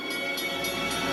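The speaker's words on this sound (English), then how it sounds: "the train is right on time" A train rumbles close and loud along the railroad tracks toward a minivan stuck on the crossing, with a steady heavy roar and faint repeating clatter through the whole moment.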